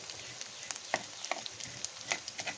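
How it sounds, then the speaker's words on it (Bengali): Whole poppy seeds fry in hot oil in a pan for a kundri posto dish, giving a soft, steady crackle with scattered sharp little pops. The sound is close and fairly quiet, with no talking. "এই গোটা পোস্তটা এটার সাথে, এই তেলের সাথে একটু ভাজা ভাজা হবে"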